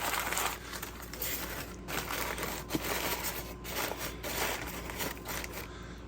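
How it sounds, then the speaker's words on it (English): Newspaper is crumpled into wads for a cushioning base in a gecko shipping box, giving a close, continuous crinkling and rustling with scattered sharper crackles. "we're just going to crumple it up in wads and make a nice little cushion base"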